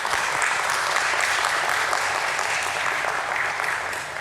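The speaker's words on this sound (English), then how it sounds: "let's begin this beautiful day with a round of applause for the entire team" A crowd claps continuously at the NMDC Steel listing ceremony at the BSE, with dense, even applause filling the room at steady loudness and no voices rising above it.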